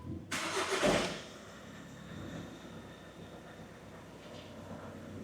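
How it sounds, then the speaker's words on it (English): A Volkswagen Group 2.0 diesel car engine cranks with a brief harsh burst, then catches and settles into a quiet, steady idle. "Right, well we're started."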